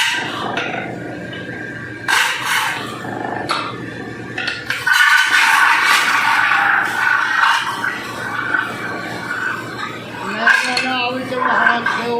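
Silver utensils clatter and clank steadily inside a utensil factory in Gujranwala. The metallic crashes are loud and dense over constant workshop noise, with a voice briefly heard.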